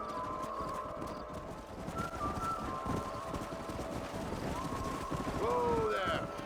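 Horses clip-clopping at a steady trot in Red Dead Redemption on PS5, hoofbeats running under continuous game ambience with a brief whinny near the end.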